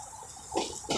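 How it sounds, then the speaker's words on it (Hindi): Water runs from a pipeline onto grass and plants in a Saudi village, a steady close trickle and splash with brief louder gushes, no talking. "वहाँ पे पानी अभी चल रहा है, पेड़ पौधों में दिया जा रहा है ये पाइपलाइन के द्वारा"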